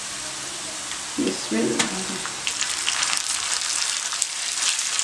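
Minced meat hits a pan of lightly golden fried onions and starts sizzling loudly, with spoon scrapes and stirring clatter over a steady frying hiss; someone speaks one brief word.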